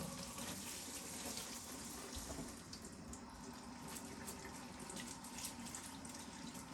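Grape leaves are washed under a running faucet, a steady, close, hissing rush of water splashing continuously with small irregular spatters throughout.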